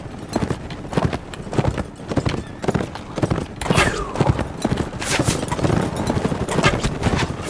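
Rapid clip-clop of many galloping hooves, a dense thundering rhythm with a horse whinnying partway through, loud and close, amid battle noise.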